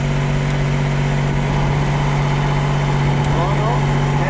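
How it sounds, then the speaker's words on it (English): Mercedes-AMG ONE hybrid hypercar engine idling steadily after a restart, a loud constant drone with a strong steady hum throughout, close up, with voices faintly mixed in. "Can you just stop the engine once? Okay, and restart."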